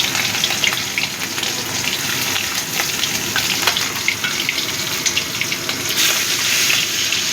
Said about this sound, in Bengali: তেলটা গরম হয়ে গেছে, এবার আমি চিংড়ি মাছগুলো ভেজে নেব।